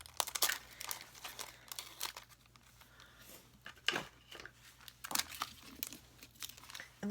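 Plastic-wrapped packages of paper heart-shaped doilies are handled and opened up close, making busy crinkling and rustling with sharp tearing snaps in quick irregular bursts.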